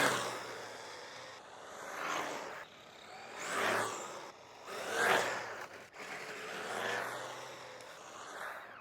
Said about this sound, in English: It has enough torque that it'll spin its tires even though it's all-wheel drive